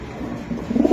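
Racing pigeons coo in a soft, low, close-up burble that swells toward the end of a short stretch, with no voices present.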